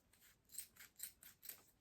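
Blunt scissors snip paper or card for a cake box craft, four crisp rhythmic cuts spaced about half a second apart, close and fairly quiet, with no talking.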